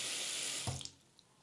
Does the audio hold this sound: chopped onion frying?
no